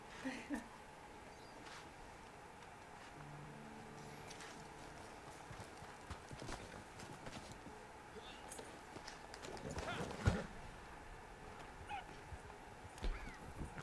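Horse hooves clip-clop steadily on a hard surface at a moderate distance in Red Dead Online, mixed with ambient outdoor noise and occasional faint voices.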